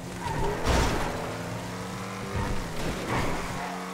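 A sports car engine in the video game GTA Online roars steadily with harmonic tones, swelling in two louder bursts as if shifting or passing, with a hint of tire noise.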